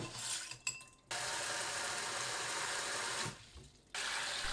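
Tap water runs steadily while soaked beans are rinsed for a traditional steamed five-grain rice, broken by two brief pauses where the flow stops and restarts.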